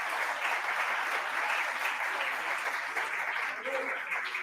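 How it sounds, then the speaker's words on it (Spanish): Steady audience applause at a university philosophy lecture, a dense even wash of many hands clapping throughout, fairly faint and distant in the hall, with no break. "Pido por favor un aplauso para don Juan"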